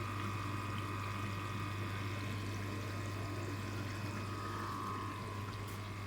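A koi pond pump circulates water in a new pond, a constant low mechanical hum beneath an even, rushing flow of water that holds steady from start to finish.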